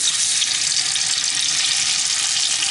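Butter sizzling in a hot pan for a rolled omelette with cheese, bacon and mushrooms, a steady, close, bright frying hiss that holds evenly throughout with no talking.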